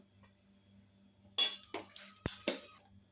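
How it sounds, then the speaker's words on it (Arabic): Dry flour, yeast and sugar are stirred in a bowl, giving a few scattered scraping clinks and taps of utensil against the bowl, fairly close and quiet, with faint background hum between strokes. "نخلط هاد النواشف"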